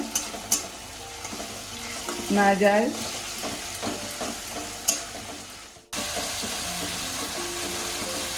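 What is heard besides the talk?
onion paste being stirred and fried in pan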